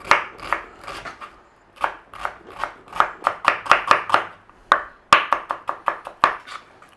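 A knife chops red onion on a cutting board in steady bursts of sharp, close taps, pausing briefly between runs before picking up again at a quicker pace.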